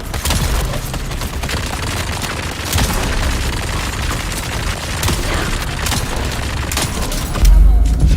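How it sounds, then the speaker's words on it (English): Gravity grenades in Dune Awakening set off a constant loud wash of booms and bursts, blasts piling over one another close by, with a heavy thump near the end. "These fucking gravity grenades."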